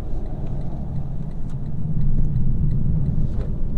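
Low engine rumble of a 2023 Lexus LC500 taken slowly through a turn at about 25 mph, a steady close drone that swells slightly partway through, with no talk.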